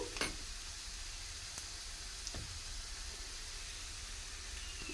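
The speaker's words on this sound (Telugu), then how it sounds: "ఇవంతా వేగుతాయి బాగా ఫ్రై అయినాయి" Food sizzles and fries in a pan, a quiet, steady hiss with a couple of faint clicks and taps near the start.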